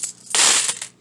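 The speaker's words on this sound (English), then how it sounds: "I've been throwing quarters into this thing for, I'd say, about 6 months now." Quarters drop into a coin container in one quick metallic clatter and jingle, close and alone.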